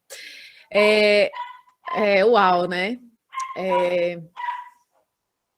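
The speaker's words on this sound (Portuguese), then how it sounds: "Algum cachorro na rua ali" A dog barking somewhere out on the street, a few sharp barks that come and go, mixed in with someone talking over an online meeting.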